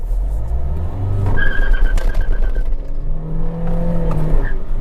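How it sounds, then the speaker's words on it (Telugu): A Kia Seltos accelerates hard in first gear toward its redline, engine note rising loud and close through a rushing drone, with a tonal whine climbing in pitch before the next surge. "అంటే మనకి టోటల్ యాక్సెలరేషన్ టెస్ట్ చేస్తున్నాం."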